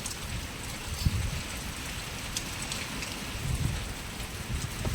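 Steady rain falling with wind, a constant hiss of drops on surfaces with occasional louder patters and gusts, moderately distant and even throughout.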